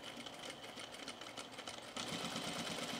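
A sewing machine stitches cargo shorts in a rapid, steady mechanical whir, close and fairly quiet, its pace quickening partway through, with no talk.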